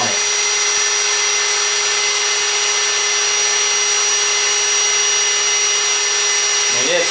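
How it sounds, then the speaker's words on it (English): A power drill spins a big reel to unspool it, producing a loud, constant high-pitched whine with a steady motor tone throughout, close up and alone. "Start off reeling slow, or drilling slow."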